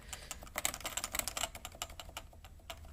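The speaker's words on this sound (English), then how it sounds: "It's a very light typing feel." Rapid, uneven keystrokes on a Topre Type Heaven keyboard with a light, tactile-bump key feel, a close, soft clatter of many presses over three seconds with no talking.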